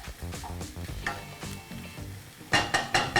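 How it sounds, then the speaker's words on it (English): Two onions and chopped garlic sizzling in a frying pan for vegan banger beans, steady frying hiss with a few scraping stirs, then several louder bursts of sizzle near the end, no talking. "Oh, there's a little sizzle, nice."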